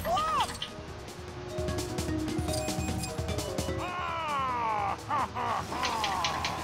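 Crows cawing in the video game LEGO Dimensions, harsh repeated caws over busy game effects, smashing hits and chatter, with people talking throughout.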